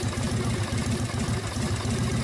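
A warmed-up motorcycle engine idles steadily after its idle speed and mixture have been adjusted, a close, even low rumble with a constant throb and no voices.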